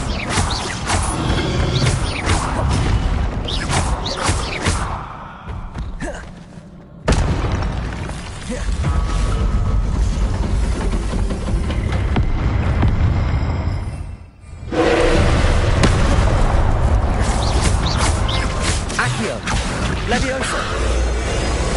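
Fiery spell effects from the video game Hogwarts Legacy: a long run of loud booms, crashes and rushing blasts that cuts out briefly twice. Game voices seem to be mixed in at times.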